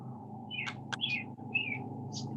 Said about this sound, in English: Hear birds chirping too